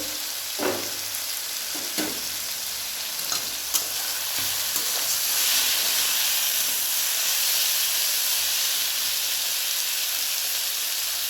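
Snake gourd slices fry in hilsa fish oil in a pan, a few spatula stirs and clinks at first, then a steady loud sizzling and steamy hiss carrying on alone without talk.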